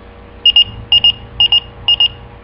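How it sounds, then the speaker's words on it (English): A pager set to its lowest volume gives four pairs of high, sharp electronic beeps at a steady rhythm, close and clear over a low background hum. "It beeps, and even when I just turn it like on the lowest"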